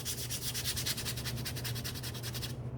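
Close, rhythmic strokes of sandpaper rubbing back and forth on a leather edge during bag restoration, quick and even, with no voices.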